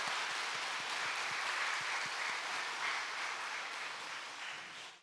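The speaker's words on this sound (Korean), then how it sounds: "우리 격려의 박수 해주시겠습니다." Sustained applause from a church congregation fills the space steadily for about five seconds, dense and even, tapering off only at the very end.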